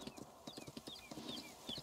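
A horse in Farming Simulator 19 trots with brisk, evenly spaced hoof clops against soft ambient bird chirps, fairly quiet and alone.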